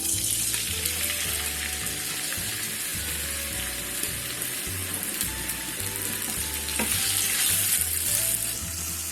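Onions frying in half a cup of oil in a pan for aloo keema, with a continuous loud crackling sizzle and occasional stirring scrapes.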